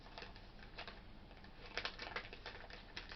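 A blind bag package from a Blythe and Totally Tiny series 2 set is torn open, giving soft, crinkly plastic rips in quick bursts, quiet and close, with a louder tear partway through.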